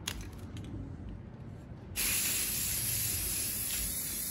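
Rust-Oleum Prickly Pear high gloss spray paint hissing from a can onto glass, a faint bursty spray giving way to a loud steady hiss that continues to the end, close and without speech.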